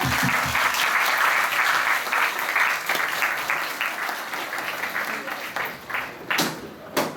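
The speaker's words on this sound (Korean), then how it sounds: "다 같이 이 더운 날 에어컨도 없이 고생한 저희들과 바라기 씨와 최슬기 선생님께 큰 박수 치고 끝내겠습니다." Audience applause closing a lecture indoors, a dense, steady clapping from a room full of people that thins slightly toward the end with a few sharper individual claps.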